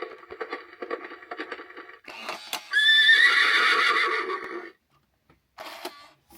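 Novelty horse-version cuckoo-style clock sounding a loud, close whinny lasting over a second, with clip-clop clicks and mechanical ticking before and after it.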